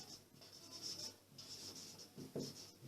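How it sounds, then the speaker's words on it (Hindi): Pen or marker writing on a board during a maths lesson, soft scratchy strokes in short bursts with pauses between them, faint and close with no talk. "अब यहाँ लिखेंगे"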